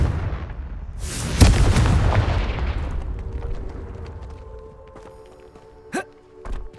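Confringo blasting spell from the video game Hogwarts Legacy, a sharp booming explosion that rumbles and fades over a few seconds, then a few smaller distant bangs.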